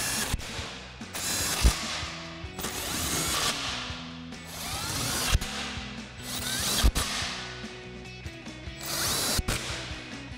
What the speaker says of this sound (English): we can go ahead and tighten those back down using our 15 millimeter socket on our impact